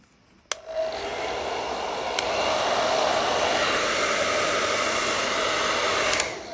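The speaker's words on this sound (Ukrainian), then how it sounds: "коли водичка є, то фен її буде ганяти" A hair dryer switches on with a click and blows with a steady, loud whirring hiss over wet watercolor paint, then clicks again near the end.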